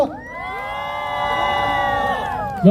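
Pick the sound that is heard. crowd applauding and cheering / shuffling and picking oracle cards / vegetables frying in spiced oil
crowd applauding and cheering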